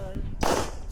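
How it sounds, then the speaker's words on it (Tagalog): A single sharp gunshot at a shooting range in Silang, Cavite, cracking loudly and close after a brief moment of low background noise, with a short ringing tail. "Firing."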